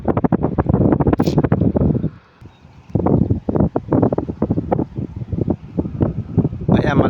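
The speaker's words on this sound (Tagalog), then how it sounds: "Mahangin dito." Strong wind buffets the microphone at a hilltop viewpoint in Santo Tomas, Batangas, loud roaring gusts that drop briefly around the middle before surging back, with a voice talking over part of it.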